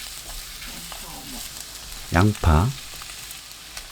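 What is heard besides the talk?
eggplant and minced garlic stir-frying in oil on high heat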